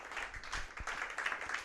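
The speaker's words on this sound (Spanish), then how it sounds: "Denle un aplauso a Dios, por favor." Congregation applauding during a church service, a soft scattered patter of hand claps heard at a distance, fairly faint and brief.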